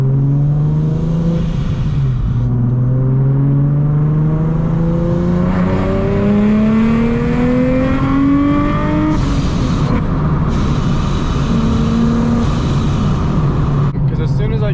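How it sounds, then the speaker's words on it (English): Car engine fitted with a Soho A2A cog kit, revving loudly under full throttle with rising then falling pitch sweeps as the power cuts out, close and dominant, with a voice speaking over it. "as soon as I give it like full throttle, it cuts immediately"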